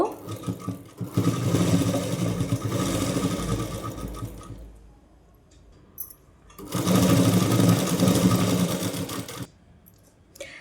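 A sewing machine stitching the hem of a saree petticoat, running in two loud steady whirring bursts of several seconds each, with a quieter pause between them.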